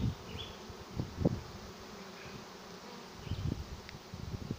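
A swarm of bees buzzes around a swarm trap outdoors in a breeze, a faint, steady hum with individual bees droning past and soft low gusts of wind rumbling underneath.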